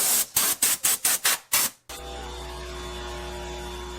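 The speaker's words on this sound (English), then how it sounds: "You need to do the outsides as well as the insides with the air line" Compressed air line blowing dust out of PC fans: seven short, loud, hissing blasts in quick succession, then a steady electrical hum once the bursts stop.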